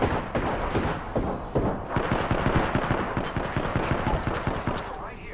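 Rapid automatic gunfire from an Apex Legends match rattles continuously, with dense, punchy shots close by and barely any pause between bursts.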